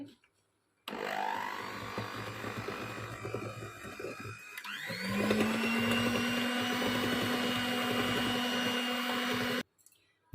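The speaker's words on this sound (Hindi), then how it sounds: "देखिए अंडे और चीनी हमारी कितनी अच्छे तरीके से बीट हो गई है।" Electric hand mixer whirring steadily through eggs and sugar for a dry fruit cake batter, loud and continuous with a rising pitch as it speeds up, then cut off abruptly.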